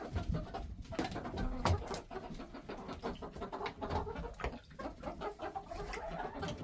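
Chickens in a homestead coop on a cold day cluck and murmur in a busy, overlapping chorus, with sharper close calls scattered through a continuous flock din.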